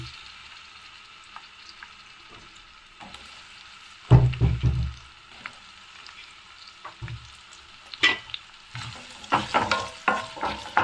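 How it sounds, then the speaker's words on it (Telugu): Garlic cloves and onions fry in a pan for a Chettinad onion-tomato chutney: a quiet sizzle underneath, with bursts of loud scraping and stirring from a spoon, first in one cluster and then repeatedly toward the end. "ఒక 7-8 వెల్లుల్లి వేసుకుందాము। కొంచెం ఫ్రై అవ్వాలి। ఆనియన్స్ వేసుకుందాము।"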